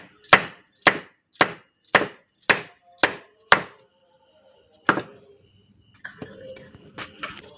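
Palm fruit seeds are chopped open with a blade in seven sharp, evenly spaced whacks, then a few scattered cuts follow, with quiet talk near the end.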